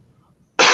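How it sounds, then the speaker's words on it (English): Near-silence, then a single loud, abrupt cough bursts in close to the microphone at the very end. "Sorry about the cough there."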